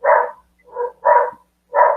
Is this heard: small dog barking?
yes